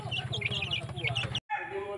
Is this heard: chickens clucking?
yes